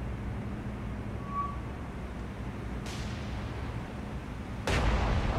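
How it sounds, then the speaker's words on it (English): Naval gunfire in the War on the Sea game: two heavy booming blasts from battleship cannons, the second louder and closer, over a low rumbling ambience, with no talking. "beautiful battleship cannons opening up on the enemy"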